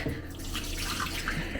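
Water running steadily from a kitchen tap during cocoa tea preparation, a continuous close hiss and splash with no talk.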